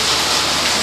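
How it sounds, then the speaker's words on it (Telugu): Heavy rain pours down in a dense, steady hiss, loud and close, with no voices over the downpour. "చాలా పెద్ద వర్షం వచ్చేస్తుందండి."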